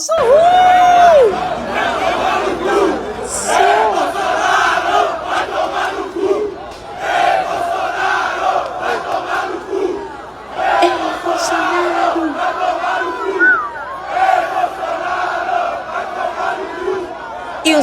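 A crowd of skaters at a street protest against Bolsonaro shouting and chanting together in loud, rhythmic bursts, with voices overlapping, brief lulls, and chatter continuing throughout.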